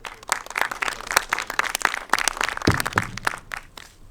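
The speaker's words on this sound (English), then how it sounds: "A big round of applause." Audience applause at a conference talk on layer 2 blockchains, with sparse individual claps. It is moderately close and irregular, a smaller crowd clapping for several seconds.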